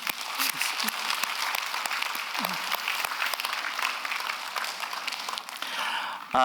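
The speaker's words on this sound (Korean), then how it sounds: "우리 같이 한번 박수 한번 좀" A church congregation applauds steadily throughout a Sunday worship service on Father's Day, a dense wash of many hands clapping at even loudness, with a short musical tone entering at the very end.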